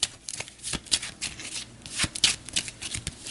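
Cards from the Harry Potter Hogwarts Battle board game are shuffled by hand, giving a quick run of riffling snaps and flutters at close range with an irregular, bursty rhythm.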